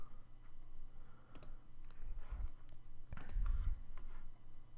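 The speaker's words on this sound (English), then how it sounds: "You can start clicking through the ones that you want" A computer mouse clicks while selecting images to download, giving a few quiet, sparse clicks over a soft, hushed room background.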